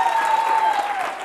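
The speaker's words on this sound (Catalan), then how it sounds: "et volem fer aquest aplaudiment de" Short round of studio audience applause on a Catalan TV word quiz show, brisk close clapping over a faint steady tone, fading slightly toward the end.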